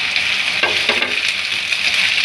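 Chicken sizzles in a frying pan as tomato goes in for a chicken jalfrezi curry, a steady close hiss with a few clattering stirs and splashes over it.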